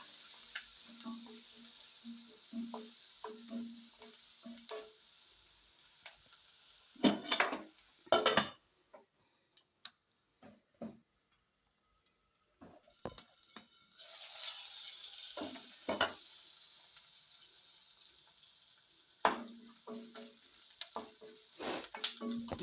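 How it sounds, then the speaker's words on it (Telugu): Onions frying in a pan for chana curry, with soft sizzling broken by bursts of stirring and clattering of a utensil against the pan, and quiet gaps between them. "కొంచెం ఉల్లిపాయలు అయితే ఫ్రై అవ్వాలి"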